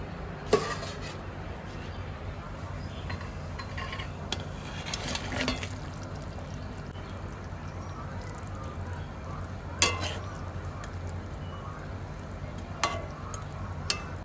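Koi fish sizzles in hot oil in a pan with cumin and coriander powder, a steady low frying hiss running throughout, with occasional sharp clicks and clatters of a utensil.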